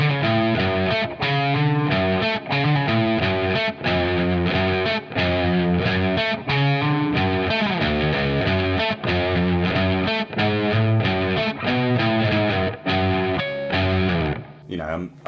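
Distorted electric guitar riff played loud and steady, a bouncy chugging figure that repeats as a second section, dense harmonic chords with brief gaps, ending in a short pause.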